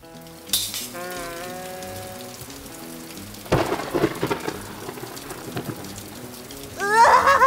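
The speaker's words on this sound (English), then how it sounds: "It's raining!" Cartoon rain and thunder: a steady patter of rain under playful music, with sudden cracking thunderclaps breaking in at intervals, bright and fairly loud.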